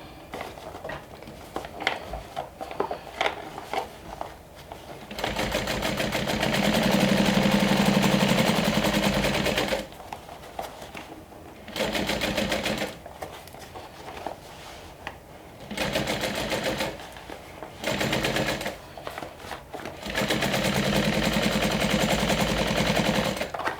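A sewing machine stitching in several close bursts of steady whirring, some long and some short, separated by pauses with light handling clicks and rustles.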